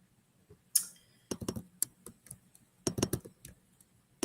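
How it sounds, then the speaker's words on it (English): Keys on a computer keyboard are typed in quick, irregular bursts of close, crisp clicks, with short pauses between groups. "Am I typing this incorrectly?"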